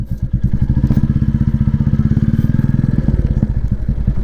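A Royal Enfield Classic 350 single-cylinder motorcycle cruising on a highway, its exhaust thumping in a loud, steady, rapid pulse close to the mic, with a faint change in rhythm near the end.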